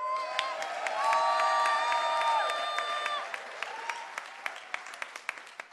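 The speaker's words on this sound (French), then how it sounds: "est-ce qu'on peut juste faire un cri de joie et des applaudissements pour accueillir tous nos internautes ce matin?" A church congregation at a morning service cheers with rising joyful shouts and whoops, then the voices fade into scattered, sharp handclaps that grow sparser toward the end.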